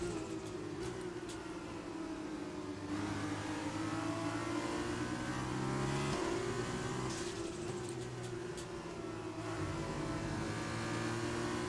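Formula 2 race car in F1 2020 at Austria, engine droning high and steady under hard throttle in fourth gear with wheelspin, the pitch wavering and dipping briefly, loud and continuous with no talking.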